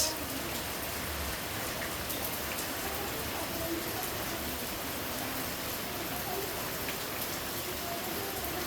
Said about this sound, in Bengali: সকালবেলা করে বৃষ্টি শুরু হয়ে গেছে, অনেক জোরে জোরে বৃষ্টি নামছে